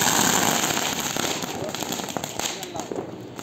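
Firecrackers burst in a crackling cluster outdoors, dense rapid pops and snaps that fade slightly over a few seconds, with voices talking alongside.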